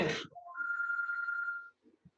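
A single steady electronic phone ring tone sounds for about a second, right after a short burst of noise, then stops.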